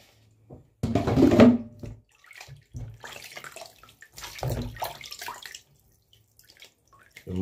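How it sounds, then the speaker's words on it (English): Chicken is washed in vinegar and water, with splashing and sloshing in bursts separated by short pauses, close and fairly loud. "Starting by washing the chicken, right? And vinegar and water."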